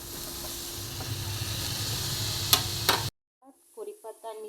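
Onion, tomato, green chillies and curry leaves sizzle and hiss steadily in a pan with occasional stirring scrapes, close and fairly loud, then the sound cuts away to a brief voice speaking.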